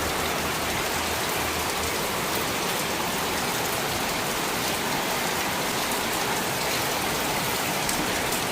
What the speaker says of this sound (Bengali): যে টিনের চালের ঝুমঝুম শব্দ সেটাই কিন্তু আমাদের মুগ্ধ করে